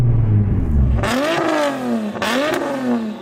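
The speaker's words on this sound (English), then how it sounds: "I'm going to rev up this beast of a machine." A tuned Nissan GT-R drag car, tuned to between 650 and 1600 horsepower, is revved hard twice after a low idle, each blip rising sharply in pitch and falling back, loud and close.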